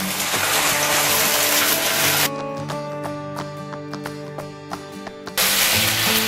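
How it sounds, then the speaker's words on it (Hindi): Water is poured into spices frying in a pan for pizza sauce, making a loud hiss and sizzle that drops away for a few seconds as the water goes in, then flares back up. "थोड़ा सा पानी शामिल करेंगे ताकि मसाले जले नहीं।"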